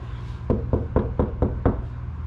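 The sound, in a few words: knocking on deadened car door panel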